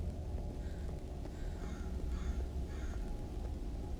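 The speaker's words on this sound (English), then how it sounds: "I can hear crows." Faint crows caw a few times in the distance over a steady low rumble of background noise in a video game.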